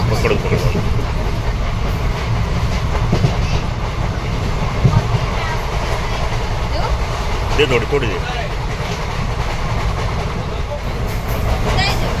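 A Madgaon–Nagpur Express runs with a steady low rumble and faint rhythmic wheel clatter throughout, heard from inside the carriage with continuous background noise and some talk mixed in.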